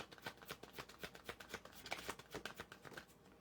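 Cards of a shiny, slick Double Major tarot deck being shuffled, a close rapid run of riffling slaps and soft flutters in quick bursts with no voices.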